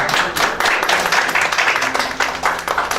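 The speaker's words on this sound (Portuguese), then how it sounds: "Uma salva de palmas para as mães" A crowd claps for the mothers, a steady, lively burst of many hands applauding together at close range, with no talking.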